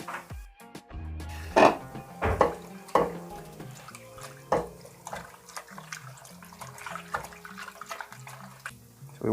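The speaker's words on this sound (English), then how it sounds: "let's wash it thoroughly." Garden eggs are washed by hand in a bowl of water while cooking a Ghanaian stew, with splashing, sloshing and knocking in irregular bursts, close and moderately loud.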